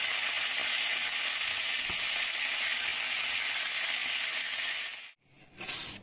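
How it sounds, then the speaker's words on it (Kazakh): Marinated chicken frying in hot oil, a steady bright sizzle holding for several seconds before briefly cutting out and returning more quietly, with no voices. "Маринатталған тауығымызды осылай қызып тұрған ыстық майда жақсылап қуырып аламыз."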